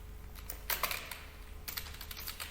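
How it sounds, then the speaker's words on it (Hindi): Rapid keystrokes on a computer keyboard while entering data into a Microsoft Excel spreadsheet, coming in quick bursts of clicky taps with short pauses, close and moderately quiet, with no talking. "जैसे आप देखो इस टाइप से टाइप कर सकते हैं।"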